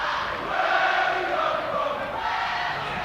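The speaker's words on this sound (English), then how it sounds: "Great noise from the crowd too." Crowd noise at an under-18 schools rugby union cup semi-final between Bromsgrove and Oundle, a steady broad roar of cheering spectators that swells slightly in the middle and holds throughout, with no clear speech over it.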